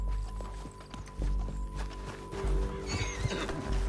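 A horse whinnies over steady hoofbeats and clip-clop, with a low constant hum beneath, close and fairly loud throughout, in the video game Red Dead Redemption 2.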